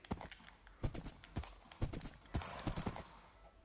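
Horse hooves clip-clopping in the Minecraft video game, a string of sharp, evenly paced hoofbeats close up, sometimes clustered in quick pairs, with a faint whinny-like tone beneath.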